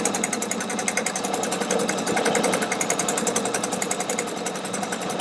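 A Pfaff Quilt Expression 720 sewing machine running on its start-stop button while feeding fabric, producing a fast, steady mechanical chatter of needle strokes at close range, with no voices.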